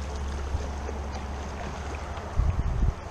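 Tandem canoe paddling on the Upper Platte river in May, with steady moving-water and wind noise and a few soft paddle splashes and knocks near the end.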